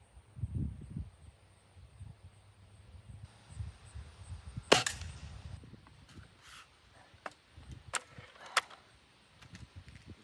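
A Beeman 1022 .22 caliber air rifle fires outdoors, giving a few sharp, sudden cracks spaced apart, with one clearly louder than the rest, over soft rustling and shuffling.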